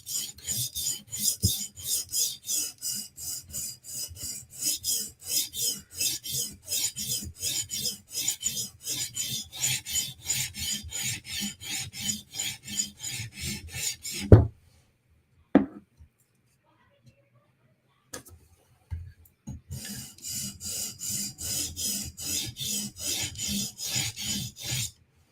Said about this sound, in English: So now I can feel the burr when I sharpen over it.